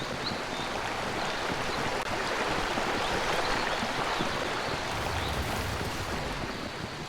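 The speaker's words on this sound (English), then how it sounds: "And the river goes all the way to the sea." Flowing river water in the video game ARK: Survival Evolved, a steady, dense rushing wash that stays loud and even throughout with no speech.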